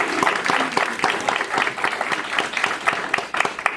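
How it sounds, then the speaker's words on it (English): Applause at a safety meeting: a small audience clapping with distinct, uneven individual claps, moderately loud and steady over a few seconds. "Can we give them an applause even though we all..."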